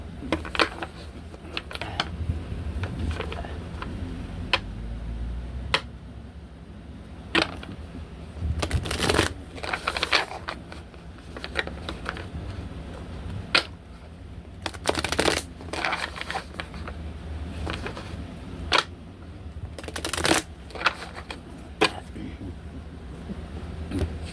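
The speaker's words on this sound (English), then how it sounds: "Let me pull just a couple of these angel cards" A deck of angel oracle cards is shuffled repeatedly, giving bursts of crisp riffling and flicking interspersed with softer sliding and handling noises, close and fairly quiet with a low background hum.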